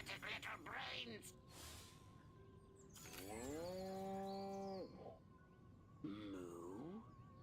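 Cows moo in the video game Destroy All Humans, with several drawn-out lowing calls, one long and steady, heard quietly amid game sounds and a speaking voice.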